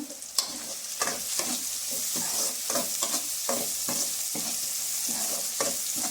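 Onions sauté in a pan for fish curry, a rhythmic series of spatula scrapes and stirs over a continuous close sizzle, with no voices.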